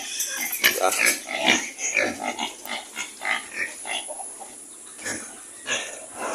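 Native pigs grunt and snort repeatedly in a busy pen, the rhythmic oinks overlapping with faint clucking fowl in the background.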